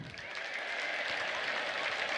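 Congregation at a healing testimony service ululates in celebration, a sustained high trilling wash of many voices, even and fairly loud for the whole moment.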